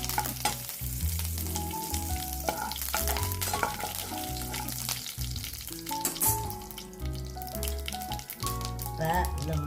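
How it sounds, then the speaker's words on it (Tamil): Urad dal and curry leaves frying in hot oil, a steady close sizzle with stirring and crackling throughout, a voice briefly speaking over it. "உளுந்தம்பருப்பு செவந்த உடனே கருவேப்பிலையை போடணும்."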